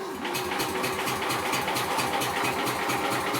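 A tractor engine cold-starting without choke settles into a steady, rough running rumble with a regular pulsing beat, loud and close near the tailpipe.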